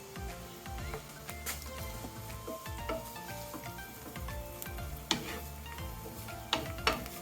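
Spinach sautéing with onions and butter in a pan, a soft continuous sizzle under scraping and stirring, with occasional clinks of a utensil against the pan, close up and without talk.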